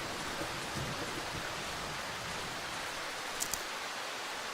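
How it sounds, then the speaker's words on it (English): Steady rain hissing in the video game Darkwood, a dense, even wash of falling drops that holds throughout at moderate level with no voices over it. "Time is still frozen, but it is raining today."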